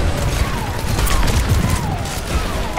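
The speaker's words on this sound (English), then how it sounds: "I hear a lot of shooting." Dense gunfire fills the Overwatch Invasion mission, a continuous loud roar of overlapping shots and mechanical clatter with no talking.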